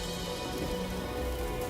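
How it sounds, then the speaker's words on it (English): A steady, dense crackling patter of burning hail and superheated rocks showering down onto a valley during a vast electrical storm at the dinosaurs' extinction, continuous and loud with no voices. "Superheated rocks shower the valley,"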